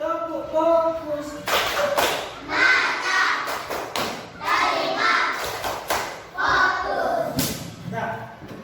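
A classroom of children performs a rhythmic focus clap, with sharp repeated clap bursts and thumps in a patterned sequence amid short chanted voices.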